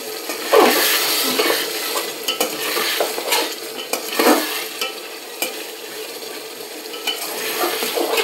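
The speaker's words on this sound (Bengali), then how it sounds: "চলো নেড়ে চেড়ে দিই।" Spiced mutton masala is stirred in a handi pot, with repeated scraping strokes of a spoon over a steady close sizzle, and faint metallic clinks between them.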